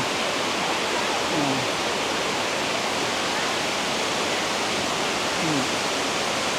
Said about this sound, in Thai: ได้มาเห็นน้ำตกที่สวยงามมากทีเดียวท่านผู้ชม